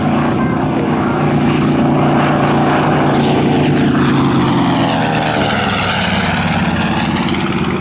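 A Grumman TBM Avenger propeller-driven torpedo bomber passes at an airshow, its loud, steady radial engine drone holding for several seconds as the pitch gently falls while it goes by.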